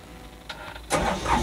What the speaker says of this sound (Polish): Aby uruchomić silnik, należy przytrzymać przycisk Start do momentu uruchomienia silnika